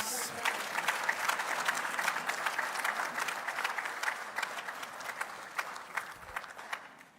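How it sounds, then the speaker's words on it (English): Applause from delegates at a Namibia–Botswana plenary session, a steady wash of many hands clapping evenly for several seconds before slowly thinning out. "Wow, another round of applause, please."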